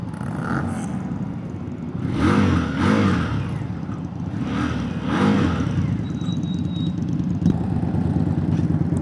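A 2025 Indian Scout 60 motorcycle rides along with a steady, close engine rumble that swells and eases in a few waves under continuous wind noise.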